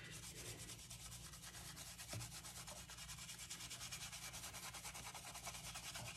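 Gilded leaf foil is rubbed off a seashell in a steady, quiet, close-up scratchy rubbing, with rapid repeated strokes continuing throughout and no talking.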